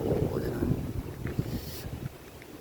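Strong morning wind on Khao Yai Thiang buffets the microphone with a steady, loud low rumble and rushing gusts that persist throughout, and a voice may be faintly mixed in.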